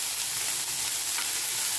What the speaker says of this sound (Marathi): यामध्ये 1 बारीक कापलेला कांदा यामध्ये मी ॲड करणार आहे आणि चांगलं तेलावर परतून घेणार आहे